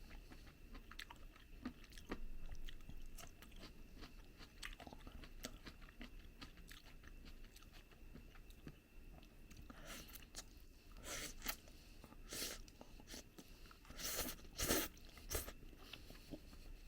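Someone chews stir-fried udon with mushrooms and vegetables, with soft, close mouth sounds and small crunchy bites that grow louder and more frequent toward the end. No one speaks.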